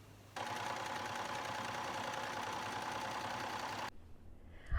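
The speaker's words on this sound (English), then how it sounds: "Now I'm going to take this to my sewing machine and do the double row of stitches" A sewing machine runs steadily, stitching a double row along the seam of a patchwork dress made from men's polo shirts. The motor whirs for over three seconds, then stops abruptly, followed by faint handling noises.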